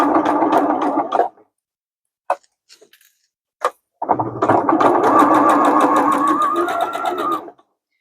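A sewing machine stitches a zipper pouch in two loud, steady bursts, one short and one longer, with a few clicks and taps in the quiet gap between them. It is close and there is no talking.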